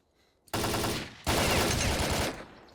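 Bursts of Kalashnikov rifle fire in the S.T.A.L.K.E.R. shooter game, two long loud automatic volleys separated by a short pause, close and dense, with no talk over them.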